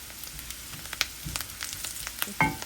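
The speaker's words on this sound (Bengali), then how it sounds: "আমার পেঁয়াজটা হালকা বাদামি করে ভাজা হয়ে গিয়েছে।" Onions browned lightly in a cooking pan with a pinch of turmeric give a quiet, steady sizzle with small scattered crackles and a sharper clink-like stir near the end, heard alone without talk.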